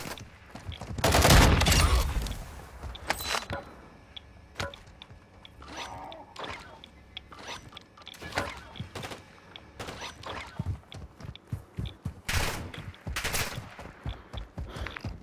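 Gunfire in the Call of Duty Warzone video game: a heavy burst of shots early on, followed by scattered sharp reports and thuds at varying distances, with faint voices now and then.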